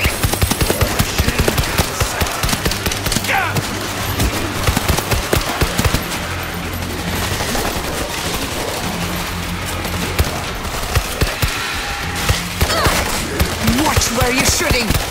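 Sustained automatic gunfire in the zombie shooter World War Z, dense rapid bursts from several weapons overlapping at close range, loud and continuous across the whole stretch with brief pauses and a few heavier booms.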